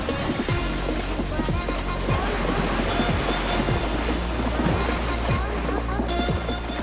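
Ocean waves wash in at Om Beach, Gokarna, a steady surf roar with repeated soft breaking swashes and some wind noise, heard close while walking in the beach water.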